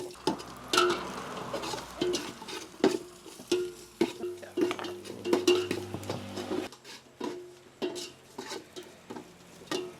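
Metal utensil clatter and stirring in a pan as onion and curry leaves go into hot oil for a Salem fish curry tempering, with quick clinks and scrapes over a soft background sizzle.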